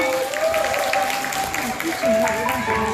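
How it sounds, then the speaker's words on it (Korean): Parents applaud at a kindergarten recital, a steady wash of clapping from a crowd under prominent voices speaking and calling out over it. "박수 한번 이차게 보내주시기 바랍니다"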